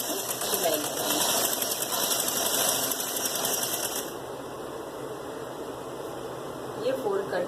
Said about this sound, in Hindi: अब हम क्या करेंगे कि इसके ऊपर किनारे किनारे से सिलाई लगाएंगे।